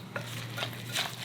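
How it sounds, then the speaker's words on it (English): A spoon stirs a thick, creamy burrito casserole mixture in a bowl, giving a short run of soft, wet scraping strokes, close and fairly quiet. "we are going to mix that all together"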